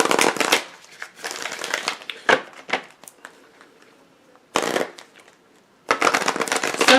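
Oracle cards are shuffled by hand in quick riffling bursts, crisp close-up flutters separated by short pauses, with soft taps and slides of the deck in between.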